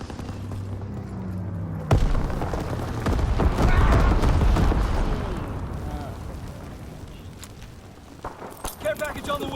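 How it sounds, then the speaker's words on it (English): Incendiary bombs and gunfire in the Call of Duty WWII video game: a sharp blast followed by a long, loud rumbling roar of explosions, then crackling gunfire toward the end, with voices speaking over the action. "Enemy bomber approaching. Incendiary bombs incoming."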